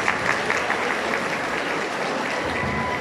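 A crowd at a mosque construction project presentation gives sustained, dense applause that stays steady and loud for several seconds with no voices on top.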